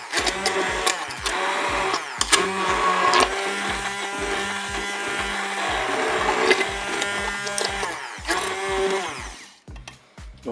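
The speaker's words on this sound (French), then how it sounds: "Je vais maintenant mixer mes pommes de terre." A hand blender buzzes loudly in stuttering bursts and steadier stretches as it purées cooked potatoes in the pot of a Cookeo cooker, then cuts off near the end.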